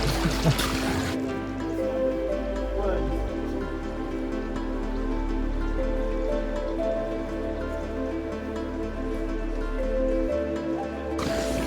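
Water trickles and splashes steadily in a backyard garden water feature, a continuous close babble with a faint low hum underneath and no talking.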